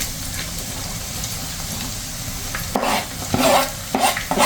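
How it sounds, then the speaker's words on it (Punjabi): Onions fry in a tadka with cumin and coriander for Punjabi baingan bharta, a steady close sizzle with stirring scrapes and louder bursts of crackle toward the end. "ਥੋੜਾ ਸੇਕ ਲੱਗਣ ਤੋਂ ਬਾਅਦ ਪਾ ਦਵਾਂਗੇ ਪਿਆਜ਼"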